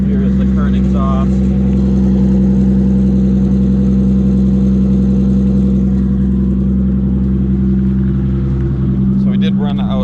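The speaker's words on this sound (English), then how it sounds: "Here is the current exhaust." Toyota JZX100 with a 3.4 stroker engine and a 4-inch straight pipe exhaust, idling with a loud, steady low rumble throughout and a brief rev near the end.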